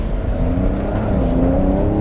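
A Porsche 911 of the 992 generation drives a lap of the Hockenheimring racetrack, a brief, loud, steady engine drone with a slowly climbing rev note from inside the car, no talk.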